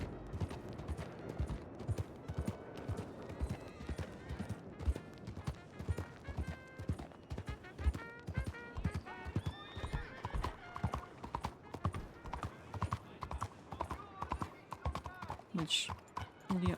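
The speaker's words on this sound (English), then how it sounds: "Lydia also doesn't canter through the main street either" A horse canters along a town's main street in a Western roleplay video game, its steady rapid clip-clop hoofbeats running throughout, with occasional whinnies and faint talk underneath.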